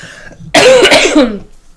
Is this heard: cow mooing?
no